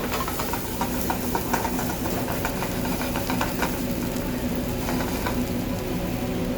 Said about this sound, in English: Before the garlic browns, add the wine.